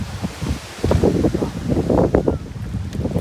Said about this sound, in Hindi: तो भाई दोस्तों इतनी भयंकर हवा चल रही है